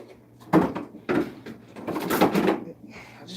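Drawers or shelves inside a refrigerator bought about a month ago are handled up close, giving several clunks and plastic rattles in quick succession.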